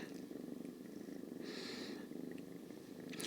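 A tortoiseshell cat purrs steadily and close up, a soft continuous rumble with a brief rise in brightness midway, with no talking over it.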